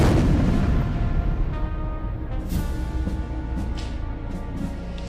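Cannon fire from the four-hour naval bombardment of Valparaíso, Chile, during the war against Spain: a dense, continuous low rumble of booming shots, loud and close, with sharp bursts cutting through at intervals and no voices.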